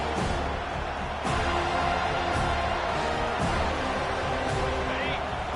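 A home crowd roars at a college football game on a third-down defensive play, producing a loud, steady wall of cheering noise beneath continuous play-by-play commentary.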